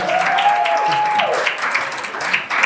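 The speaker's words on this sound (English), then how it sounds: "Wonderful applause to Zama." An audience at a career and entrepreneurship expo claps for Zama, a loud, dense burst of applause with a whoop or cheer rising over it and scattered voices in the crowd.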